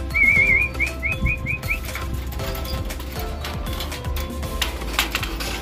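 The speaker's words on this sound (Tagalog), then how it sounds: "lumilipad yung mga ibon natin" Pigeons fly around their loft. Quick wingbeats and bright, whistle-like chirps come early on, then fade into a softer flutter and scattered rustling nearby.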